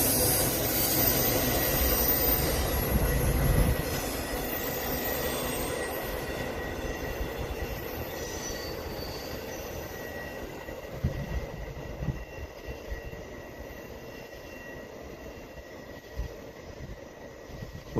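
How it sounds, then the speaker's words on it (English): Freight train wheels squeal on the rails in high, shrill tones, even on straight track at night in Stockbridge, Georgia, over a heavy rolling rumble of passing cars, with occasional clanks. "Wheels are still squealing even on the straight line."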